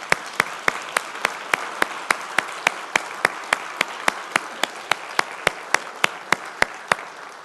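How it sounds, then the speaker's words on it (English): A church congregation claps for visiting guests in a steady, evenly spaced rhythm of sharp hand claps, about three per second, loud and clear with no talk over it. "Can we applaud these guests"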